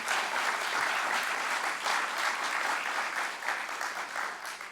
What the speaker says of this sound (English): Can we get another round of applause for our friends at A&E?